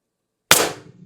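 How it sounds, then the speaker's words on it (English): A single sharp snap from an IntruBuster Gen 2 launcher fired empty with a Titan IB-2 drum magazine, a close, loud click-bang after silence with a short decaying rattle. "That was a dry fire"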